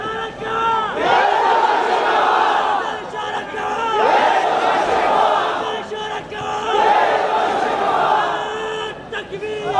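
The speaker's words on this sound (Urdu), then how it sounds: "آپ ذرا نعرے کم لگائیں۔" A large crowd at a political conference chants slogans in three loud, rising waves, voices swelling together and then fading between each chant, with scattered shouting.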